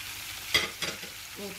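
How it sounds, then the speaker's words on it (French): A spoon stirring a potato and smoked fish mixture in a pot makes two short scraping strokes and a brief clink over a faint background sizzle, close and fairly quiet. "Et le tout, on va essayer de mélanger jusqu'à ce que voilà"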